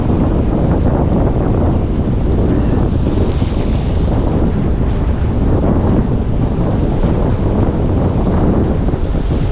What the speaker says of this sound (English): Wind's blowing straight into this cove.